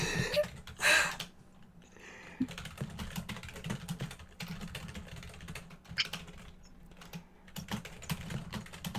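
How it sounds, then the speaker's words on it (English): Fast, forceful clatter of keys on a computer keyboard, continuous and busy with a few louder bursts, close up, no speech. "can literally hear the aggressive keyboard"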